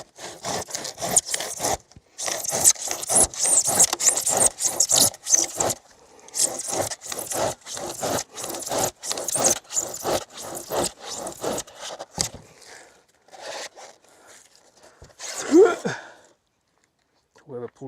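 Insulation boards for a building foundation are cut with quick rhythmic sawing and scraping strokes in repeated bursts. A voice briefly breaks in near the end as the cutting thins out.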